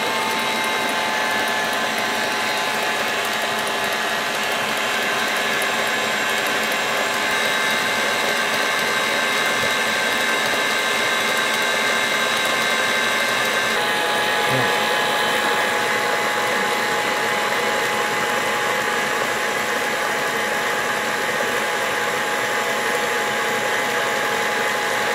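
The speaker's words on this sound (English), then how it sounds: "the sound from the mixer is kind of loud" Electric mixer churning cream into European-style butter, a loud, continuous motor whir with a dense rattling, slapping texture that holds steady throughout, close up and alone with no talk.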